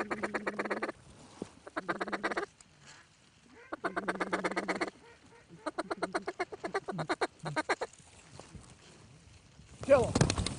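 Duck calls blown in short rhythmic quacking sequences while hunting groups of ducks, several bursts of loud, close quacks separated by quiet gaps, ending with a brief louder noise.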